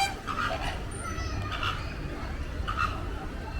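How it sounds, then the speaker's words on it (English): Goofy, silly-sounding bird calls at a resort pool at Disney's Animal Kingdom Lodge, with three honking, squawking bursts spaced about a second apart over a steady outdoor background. "Some of the goofiest sounding birds. They sound so silly."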